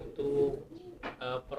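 Racing pigeons in a small loft give soft, low cooing calls that are close and steady, with no talk over them.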